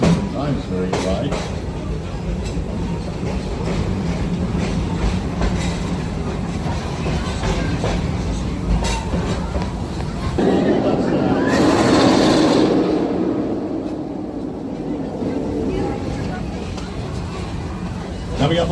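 A theme park safari train rumbles steadily along its track, with a shift in rolling noise partway through as a guide narrates over the top and riders murmur.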